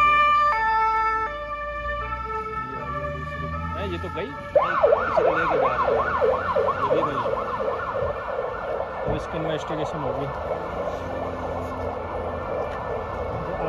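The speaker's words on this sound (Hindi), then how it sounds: "बहुत जबरदस्त फैसिलिटी है ये, चार एम्बुलेंस आई है।" Ambulance sirens at a road accident scene in Bishkek, Kyrgyzstan: after a short stretch with a voice, a loud, rapidly wailing siren takes over near the listener and keeps cycling for the rest of the time, under occasional talk.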